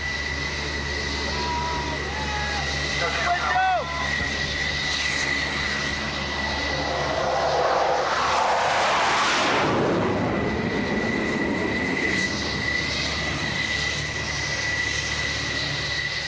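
An F-14 Tomcat jet is waved off over an aircraft carrier deck, its engine roar building to a loud close flyby peak and then fading, under a steady high whine and background noise from the ship.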